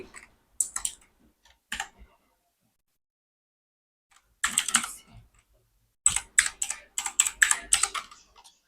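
Bursts of rapid key clicks on a computer keyboard as a word is entered into a search bar, several short flurries separated by pauses, close and clear.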